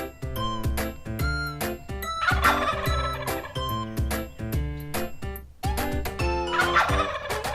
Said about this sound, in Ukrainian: Індик кулькає.